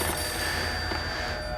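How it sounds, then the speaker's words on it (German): A telephone rings in the Max Payne video game, a steady electronic ringing tone held throughout over a dense background hiss, moderately loud with no speech. "Telefon."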